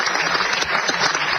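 Applause in the European Parliament, a brief dense patter of many hands clapping at close, steady volume with no voices over it.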